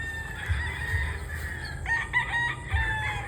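A game-farm rooster crows loudly nearby, a drawn-out cock-a-doodle-doo with other fowl clucking and calling around it.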